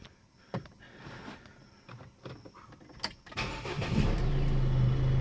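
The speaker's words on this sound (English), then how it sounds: "let me again start my car again" A Ford Figo fitted with HID xenon lamps starts up: quiet clicks and small cabin sounds, then the engine cranks and catches, settling into a steady low idle heard from inside the car.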